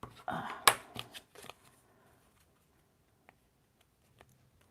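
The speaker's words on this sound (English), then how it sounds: "Just holding these together and snip, snip" Scissors snip through paper trim for a handmade journal, a cluster of quick close cuts and rustles at the start, then near quiet with a couple of faint ticks.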